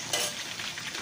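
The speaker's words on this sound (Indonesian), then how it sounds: "baru kita tuang dengan minyak panas, kurang lebih 1 sendok makan" Hot oil poured over chili sambal crackles and sizzles loudly at close range, a brief dense burst of frying noise.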